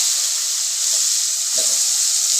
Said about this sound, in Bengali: আর ওই তেলের মধ্যে আমি বেগুনগুলো ভেজে নেব